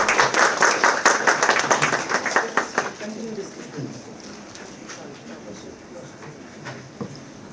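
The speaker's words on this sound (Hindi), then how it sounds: "आप सब तालियों से सर का अभिनंदन" Audience applause in an auditorium at a World Hindi Day celebration, a dense burst of clapping for about three seconds that thins to scattered claps and quiet room noise.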